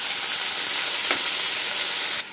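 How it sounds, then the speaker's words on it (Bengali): Pieces of hog plum frying in mustard oil with dried red chilli and five-spice, giving a steady, close sizzle with a brief stir partway through and nothing else over it. "ভালো করে একটু ভেজে নেব"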